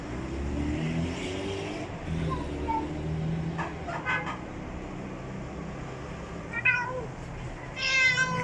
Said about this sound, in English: that poor kitty was starving